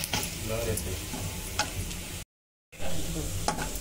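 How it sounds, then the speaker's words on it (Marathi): Garlic and curry leaves fry in oil for chicken 65, a close, steady crackling sizzle with occasional ticks and stirring scrapes, broken by a short silent gap before resuming just as loud. "चांगला फ्राय करून घेऊ. कढीपत्ताही फ्राय होतो बघा."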